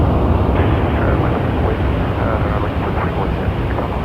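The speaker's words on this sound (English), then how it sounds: "That plane was coming in from Winnipeg, Air Canada 268 on an A321" An Air Canada Airbus A321 airliner rolls out after landing at Toronto Pearson, heard as a continuous loud, broad jet roar with no break, and a faint voice may sit under it.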